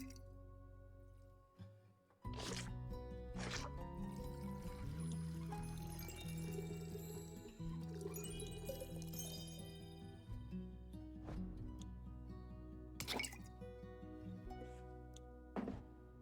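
A drink being poured in the tavern video game Tavern Talk, a long trickling pour with drips and a few glassy clinks, steady and close, set over a game music bed, no voices.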